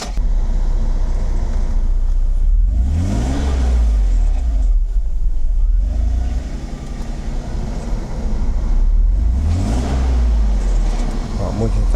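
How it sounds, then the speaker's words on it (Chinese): A Mercedes R129 300SL, tested after its fuel distributor was repaired and with a clogged radiator, runs close by: its engine note swells twice in rising revs, then settles back to a steady idle, with voices talking faintly underneath. "大哥来发动，因为大哥刚试车回来"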